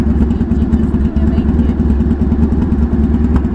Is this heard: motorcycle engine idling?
yes